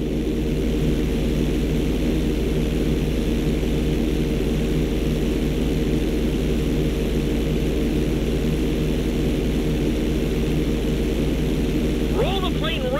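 A propeller airplane engine droning in Grand Theft Auto 5 during a flight school mission as the plane rolls upside down, a constant loud hum filling the whole stretch, with a brief voice at the very end.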